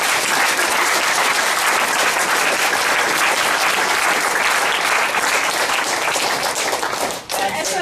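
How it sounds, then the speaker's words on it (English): Loud, sustained applause from a large audience after a talk on plants, potions and prohibition, dense even clapping that carries on throughout before dipping briefly near the end, with voices faintly underneath. "A very big round of applause"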